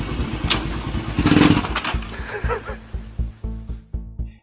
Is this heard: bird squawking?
no